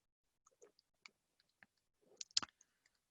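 Scattered clicks of keys being typed on a computer keyboard in a quiet room, faint and irregular, with a brief quicker cluster near the end and no talking.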